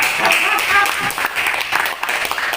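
A classroom or training group applauds together, a brief burst of steady clapping mixed with some voices and chatter.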